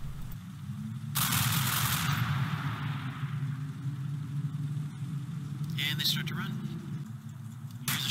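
Bursts of automatic machine-gun fire from the WWII tactical game Combat Mission: Final Blitzkrieg, one sharp burst early and a rattling stretch near the end, under a steady low rumble with someone talking throughout.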